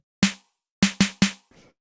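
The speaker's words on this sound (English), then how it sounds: "almost like an 808 style snare" A raw 808-style snare sample for lo-fi house fires four dry electronic hits, one alone then three in a quick run, each a bright noisy crack with a short low tonal body, ending on a faint softer tail.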